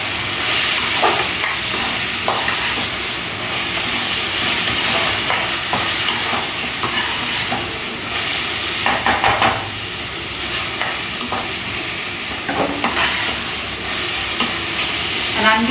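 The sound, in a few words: cut tomato frying in a pan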